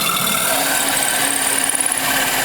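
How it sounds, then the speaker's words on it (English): A drill press bores into an acrylic and wood nightlight blank with a steady, even grinding whine that runs continuously at close range, with no voices over it. "You can bog down your drill press if you rush it."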